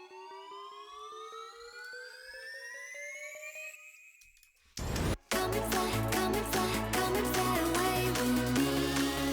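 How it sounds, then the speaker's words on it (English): A synth riser in an electronic pop song: rising tones climb steadily for several seconds, then a short burst of broadband noise sweeps up before the full, dense track crashes in. "And then there's the typical like noise riser."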